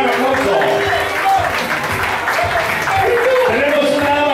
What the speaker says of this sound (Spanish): Aquí está el señor Giovanni Contreras, para el cual tenemos un gran, pero gran aplauso